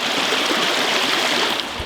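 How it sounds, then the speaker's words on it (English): River water rushing steadily past, a constant close broadband flow with small gurgles and splashes near the end, no talking. "I gotta cross this river now."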